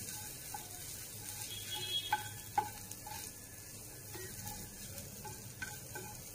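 Garlic cooking in a pan for garlic chutney, a low, quiet sizzle with a few light clinks and taps of a utensil against the pan, no voices.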